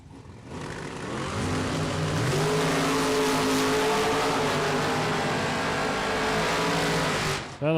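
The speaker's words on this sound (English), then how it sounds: "The 69 Camaro and the Corvette Roadster" Two drag cars, a '69 Camaro and a Corvette Roadster, launch and race side by side at a Super Pro drag event, their engines roaring loud and steady for several seconds before cutting off abruptly.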